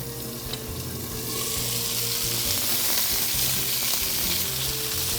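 Honey garlic chicken frying in a pan gives a steady, loud sizzle close by that swells after the first second and holds continuously, with no talking.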